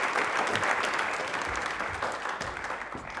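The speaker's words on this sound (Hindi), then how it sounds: "Please have a huge applause for him." Loud, sustained applause from a TV studio audience welcoming a volunteer guest onto a Rajasthani quiz show, steady dense clapping throughout with no voices on top.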